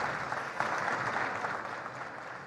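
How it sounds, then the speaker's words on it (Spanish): An audience applauds steadily at a political interview event, a dense even wash of clapping that continues throughout at moderate level without speech. "mirá, te están aplaudiendo"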